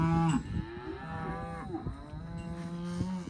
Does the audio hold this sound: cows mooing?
yes